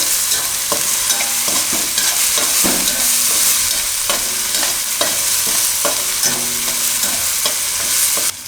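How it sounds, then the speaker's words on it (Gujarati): Garlic and ginger stirred in hot oil in a pan, a steady frying sizzle with repeated scraping strokes of a spoon throughout, close and fairly loud with no talking. "થોડીક વાર તેલમાં ફેરવી લેવાનું"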